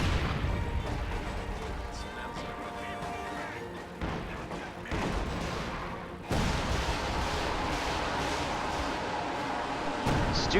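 Heavy booming bombardment from a Stuka dive bomber in a WWII strategy video game, dull blasts and rumbling impacts rolling over continuous battlefield noise, with a couple of sharp louder hits.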